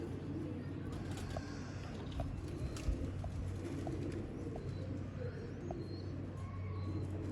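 Pigeons coo softly in repeated low, throaty calls at a quiet, even pace, with faint background noise and occasional murmured voices.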